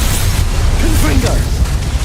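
A Confringo blasting spell detonates in Hogwarts Legacy amid dense, loud game effects, with booming bursts and whooshes layered over continuous rumble.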